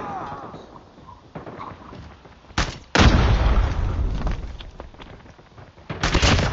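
Call of Duty Mobile grenade explosion lands as a sharp loud blast after a brief crack, followed by rumbling debris and scattered gunfire, with another burst near the end amid match noise.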